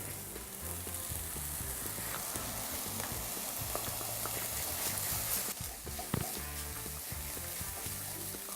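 Mushrooms sizzle and fry steadily in a hot pan for a sweet potato cannelloni filling, a dense continuous crackle with a few louder pops, no talking.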